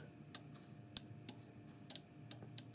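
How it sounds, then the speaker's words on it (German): Small relays on a remote-control circuit board retrofitted to a very old desk fan click several times, sharp isolated ticks spaced irregularly over a faint background hum, close and fairly quiet. "Man hört jetzt auch gleich die Relais mal kurz klicken."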